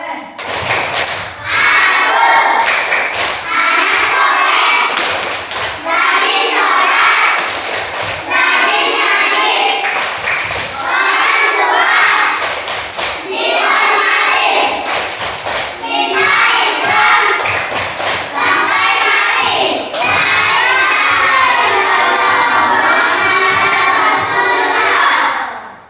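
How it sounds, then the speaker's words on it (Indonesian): A class of children in an Islamic school chants and claps the rhythmic 'tepuk anak saleh' clap chant, loud and continuous with shouting voices and repeated hand claps throughout. "Kita tepuk dulu,"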